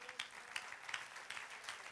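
A church congregation claps in praise during a Spanish-language sermon, a faint, scattered patter with a few sharper bursts, heard at a distance.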